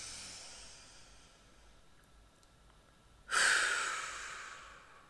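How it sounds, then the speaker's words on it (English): Deep breath during a yin yoga practice, a soft airy breathing hiss that swells suddenly near the end and holds loud and close, after a quiet stretch. "Breathing in."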